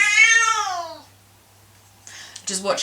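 A domestic cat gives one long, clear, close meow that falls in pitch, followed by a pause and then brief rustling and a short vocal sound.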